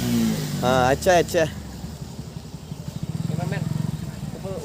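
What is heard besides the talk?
motorbikes coming up from behind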